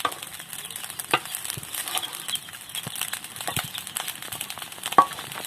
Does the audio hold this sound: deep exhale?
no